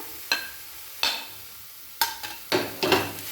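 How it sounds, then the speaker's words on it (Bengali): Chopped tomato with coriander and chilli powder stirs and fries in a pan, a handful of distinct scraping strokes of a spoon each followed by a short burst of sizzle, close and fairly loud, with no speech. "এই নাড়াচাড়া করে নেব, ভালো করে মশলা কষিয়ে নেব।"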